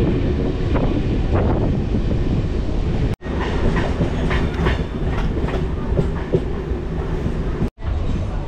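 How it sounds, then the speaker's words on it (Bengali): The Rupasi Bangla Express rushes past alongside a Santragachi-Jhargram MEMU train. A loud, steady roar of wheels and rushing wind carries a rhythmic clickety-clack over the rail joints, with two abrupt brief dropouts. "রূপসী বাংলা এক্সপ্রেস আমাদেরকে ক্রস করে বেরিয়ে গেল।"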